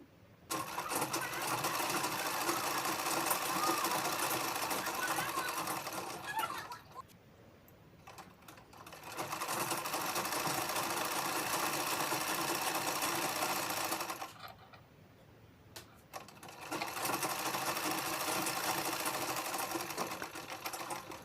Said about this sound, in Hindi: और अब हम कमर के साइड भी सिलाई कर लेते हैं।